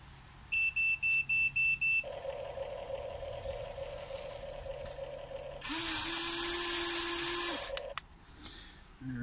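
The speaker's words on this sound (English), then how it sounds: "So I guess we'll finish off with the loader. Let's fire up." A remote-control loader starts up in a shop, giving a run of short electronic beeps, then a steady motor hum and a louder simulated engine burst with a rising tone. It is close and alone, with no talking.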